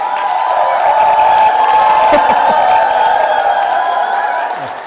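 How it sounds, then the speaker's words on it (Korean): Seminar audience at a Haegang Group company event applauding and cheering, a dense, steady wash of clapping and crowd noise that holds for several seconds and eases slightly at the end. "너무 열정적으로 환호해 주셔서 감사합니다"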